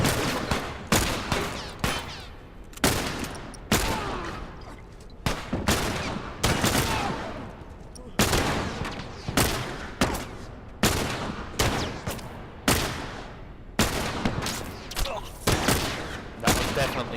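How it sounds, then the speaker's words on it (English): Allied gunfire in The Last of Us Remastered cracks out as a long series of sharp, loud single shots and short bursts, spaced irregularly roughly every second, each with a quick echoing tail. "Apparently your allies will also keep shooting even if you grab an enemy"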